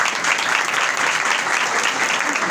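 Steady, dense applause from an audience at a Christian New Year gathering, loud and continuous throughout with no pauses, like a full hall clapping together to welcome a guest speaker.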